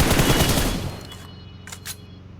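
A burst of rapid automatic gunfire in the video game PUBG, loud and dense at the start, then quickly decaying, with a couple of faint sharp clicks trailing after.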